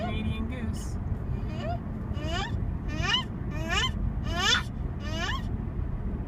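A person vocally imitates a Canada goose, giving a run of about six honking calls at a steady rhythm over a constant low background rumble, with talk from others around it.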